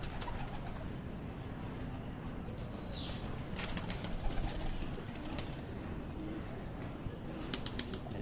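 Pigeons coo softly amid wing flaps and rustling during a pigeon foot-cleaning session, with several sharper clicks and flutters rising over a constant low background.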